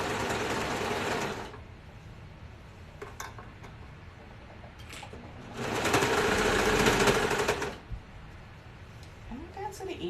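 A sewing machine stitching fabric for a bonnet runs in two loud bursts, the first for about a second and a half and the second for about two seconds, with quieter handling noises and brief talk in the gaps.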